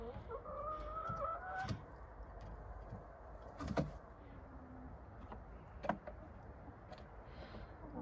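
Hens settling in a backyard coop at bedtime, some roosting in the nesting boxes, give soft, scattered clucks and a few creaky calls over a faint background, with occasional thumps and knocks.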